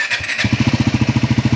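A Triumph Scrambler 400 X motorcycle, sitting unstarted for five days, cranks after a short whir: a close, loud, steady rhythmic chugging of the starter turning the engine over without it catching.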